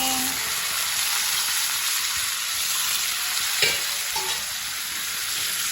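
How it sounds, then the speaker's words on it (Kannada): Onions and tomatoes frying in a pan for pasta give a steady, close sizzle throughout, with a brief stirring scrape near the middle and no talking. "ಟೊಮೊಟೊ ಹಾಕೊಂಡು ಚೆನ್ನಾಗಿ ಫ್ರೈ ಮಾಡ್ಕೊತೀನಿ"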